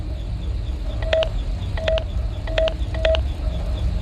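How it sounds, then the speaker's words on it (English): Keypad entry tones in the Five Nights at Freddy's Sister Location video game: four short bursts of beeping button presses, each a quick double tone, clear and close over a low background hum. "Please enter your name as seen above the keypad."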